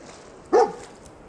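A single short dog bark from a dog companion in Fallout 4, close and clear over a quiet game background.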